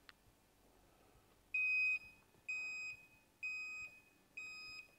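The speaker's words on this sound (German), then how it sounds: "Sofort Alarm, habt ihr gesehen, hier war Alarm, hier piept's" An electronic alarm beeps in four long, loud, evenly spaced tones after a quiet start, with a faint click near the beginning.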